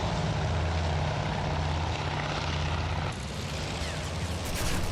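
World War II propeller aircraft engines in the Task Force Admiral naval game, a loud, continuous droning roar with a steady low hum that shifts slightly as the planes pass by.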